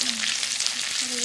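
Garam masala sizzles in hot oil for a local chicken curry, a steady close frying hiss with a faint tonal hum running underneath.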